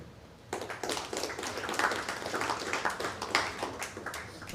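Audience in a comedy club clapping their hands, a dense crowd patter of claps starting abruptly and holding steady for several seconds, fairly distant and moderately loud with no talk over it.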